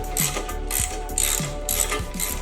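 Ratchet wrench clicking in steady repeated strokes while tightening TC Bros sissy bar mounting hardware on an M8 Softail motorcycle, close and fairly loud, with brief pauses between bursts of rapid pawl clicks.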